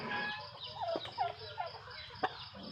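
Domestic turkeys gobble on a rural farm, a few short warbling calls rising out of soft background clucks and ambient noise, fairly close and moderately loud.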